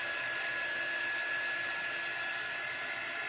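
A hair dryer blows steadily and loudly up close, drying a Mod Podge coating on a craft project, a continuous whooshing hiss with a faint tonal whine and no talk.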